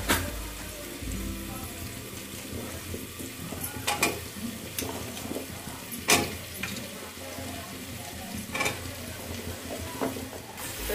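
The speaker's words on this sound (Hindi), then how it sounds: "तो मसाला हमारा अच्छा से भून गया है, डालते हैं अब आलू और परवल।" Potato and pointed gourd pieces sizzle and fry in spiced masala in a pan, with recurring scraping stirs of a spoon against the metal; close and steady, without speech.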